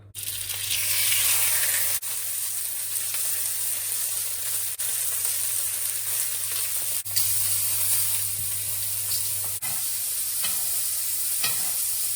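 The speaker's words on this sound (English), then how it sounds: "That sizzle is going to tell you that the pan is hot enough for you to cook the meat on." A steak sizzles in a hot cast iron skillet, a loud, steady frying hiss that runs close and unbroken, with a few faint clicks and stirs over it and no talking.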